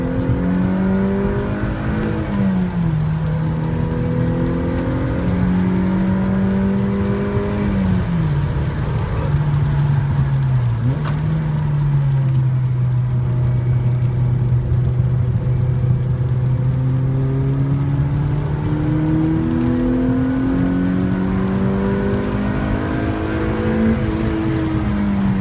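A 2015 Mazda MX-5 Club Racer engine drones steadily from inside the car on a wet infield road course at Texas Motor Speedway, its pitch rising and falling through gear changes as it laps continuously, with no talk.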